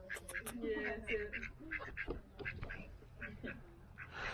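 Ducks quacking repeatedly at close range, a series of nasal calls mixed with faint splashing and background voices.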